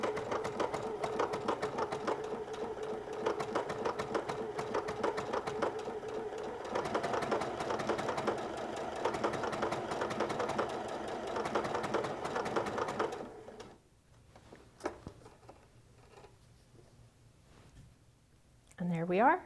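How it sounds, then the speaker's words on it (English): An EverSewn Sparrow 30 sewing machine runs a decorative stitch in a steady, fast mechanical whir with rhythmic needle clatter for about thirteen seconds, then stops, leaving quiet with a few faint clicks. "I'm going to start my stitch."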